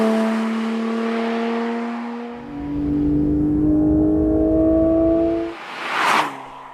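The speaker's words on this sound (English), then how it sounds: "the new Porsche 911 GT3 will still be gloriously, naturally aspirated, as it has managed to retain the wonderful 4-litre flat 6 from the 991" A Porsche 911 GT3 with a naturally aspirated 4-litre flat-six revs loudly, its tone climbing steadily through the gears before dropping off, then a brief rising snarl and whoosh at the end, with no talking.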